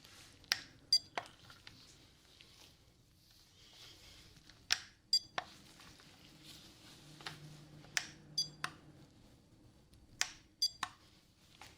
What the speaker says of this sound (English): the beep sounds a little different, and it's gonna be further away.